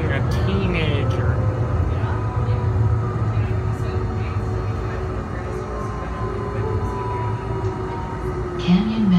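A Calgary CTrain Siemens S200 light rail car on the Red Line carries riders on Canada Day. The interior hums with a steady low rumble and a faint motor whine, and people talk over it.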